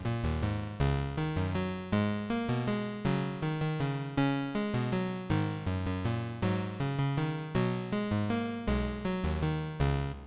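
Sequenced synth notes from a Sonicware Texture Lab set to a dotted 16th-note rhythm, a steady looping pattern of plucky tones with shifting pitches and repeated swelling accents, loud and continuous throughout.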